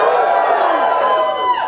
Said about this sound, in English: Give me a cheer if you have heard of Clippy.